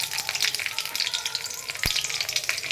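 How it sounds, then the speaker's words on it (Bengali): Nigella seeds and green chillies crackle and sizzle in hot mustard oil for a tomato chutney, a steady close hiss with fine pops and one sharp spit partway through. "আর কালো জিরে আর কাঁচা লঙ্কা ফোড়নে দিয়ে দিলাম।"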